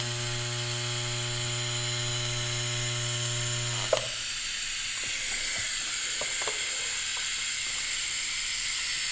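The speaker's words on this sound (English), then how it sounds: "So I'm gonna probably tack weld this up again, see if it moves" Tack welding on a custom Honda Shadow motorcycle exhaust: a steady electric hum breaks off with a sharp click near the middle, followed by a soft crackling hiss and a few faint ticks.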